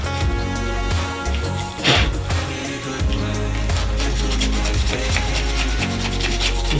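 Painted metal is scuffed by hand before priming, producing repeated close scraping strokes in a steady rhythm, loud against background music.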